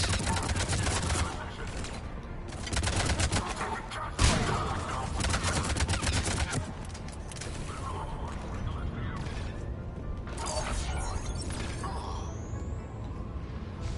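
Rapid automatic turret fire in the Mass Effect Legendary Edition game: dense bursts of mechanical gunfire with whirring and clanking, loud and close, with brief pauses between bursts and a voice speaking briefly.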